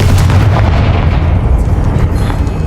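A loud, close Confringo spell explosion from the Hogwarts Legacy video game, a heavy booming blast with a deep rumbling tail that fades over a couple of seconds.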